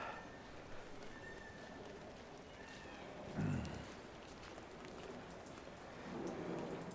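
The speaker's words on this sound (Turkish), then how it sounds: "Yağmur da çiseliyor" Light rain drizzles softly and steadily in Rönepark, Yeşilköy, a faint continuous hiss with a dull low thump partway through.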